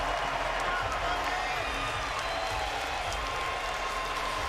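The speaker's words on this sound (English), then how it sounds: "Listen to this crowd here in Anaheim." At a welterweight boxing event in Anaheim, a large arena crowd applauds and cheers in a steady, dense roar from a distance, with an announcer talking faintly over it.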